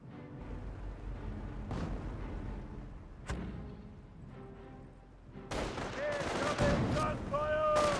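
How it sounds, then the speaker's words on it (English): US mortar fire in the Company of Heroes World War II strategy game, with several muffled distant thumps and blasts mixed with battle noise and a sharp crack, under steady game sound and a talking voice. "And the mortar, US mortar does fall back there."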